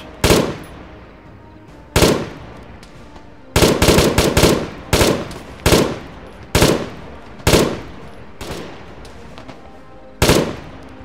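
Bursts of automatic gunfire from German weapons in the military video game Arma 3 Global Mobilization, about a dozen sharp loud shots and short volleys at irregular intervals over several seconds, with no voices.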